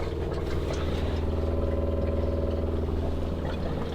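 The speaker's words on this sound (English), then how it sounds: "The pump's just come on" An electric water pump in a camper van's plumbing system runs with a steady mechanical hum and fine rapid pulsing, constant in level throughout with no talk over it.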